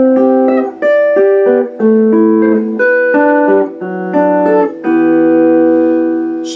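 Gibson Firebird electric guitar playing a descending passage on the upper strings, a series of loud, clear picked notes and chords stepping downward, ending on a held ringing chord, with no talking.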